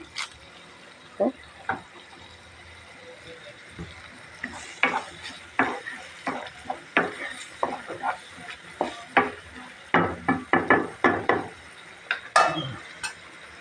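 Garam masala tipped into frying oil for a village-style beef curry with bottle gourd and chana dal; a soft, faint sizzle under a run of sharp utensil taps and scrapes against the pot.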